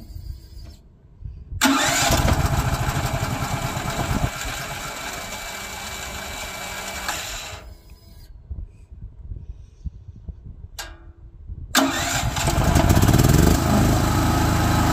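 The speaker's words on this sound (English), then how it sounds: "And let's start the engine again." A portable generator engine cranks and fires up, running steadily at close range, then stops and is started again, each start a loud mechanical burst with brief pauses of near silence between runs.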